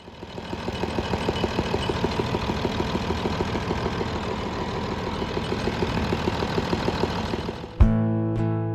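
A John Deere 4450 tractor's 466 turbo engine runs with a broken head bolt rattling inside. There is a steady, close idle with a rapid knocking rattle, then an abrupt clunk near the end.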